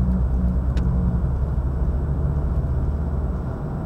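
Car cruising along a road while overtaking traffic on the right, a steady loud engine and road rumble heard from inside the cabin, continuous and even throughout with no talking.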